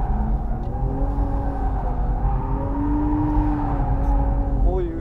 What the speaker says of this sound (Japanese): 初めに、まあ、回転上げてリアを滑らすっていう、そういう練習が大事ですね